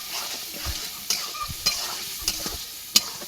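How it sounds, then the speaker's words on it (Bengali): Food frying in a pan with turmeric and salt is stirred, giving a soft continuous sizzle broken by several sharp scraping clinks at irregular intervals. "এখন আমি একটু নেড়েচেড়ে নই"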